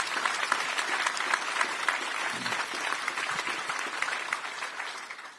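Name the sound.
audience applause for the assistant director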